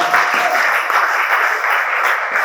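A church congregation applauding during a sermon: a dense, steady wash of many hands clapping together, loud and sustained throughout with no gaps.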